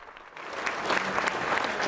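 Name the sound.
crowd cheering and applauding at political rally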